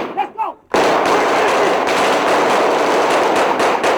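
Dense, continuous burst of gunfire echoing off the walls of narrow alleyways in urban combat in Fallujah, 2004, loud and sustained after a brief moment of quieter sound at the start.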